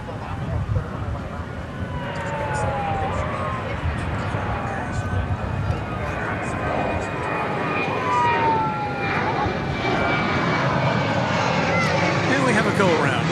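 An airliner going around at DFW Airport on a Saturday night: a sustained, broad jet-engine roar with shifting whining tones holds steady throughout, with possible faint voices in the background.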